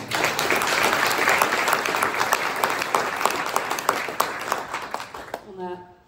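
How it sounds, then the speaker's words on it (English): At the Generet Prize ceremony for rare diseases, an audience applauds the people on stage with sustained, lively clapping that stays full for several seconds and then fades out quickly near the end. "on peut quand même les applaudir"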